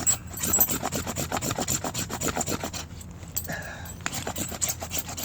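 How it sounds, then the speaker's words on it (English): Shavings being scraped off a piece of prime fatwood with a blade to start a fire, a fast run of close, loud rasping strokes, then a short pause before more scraping. "So what I'm going to do is I'm going to take some shavings here."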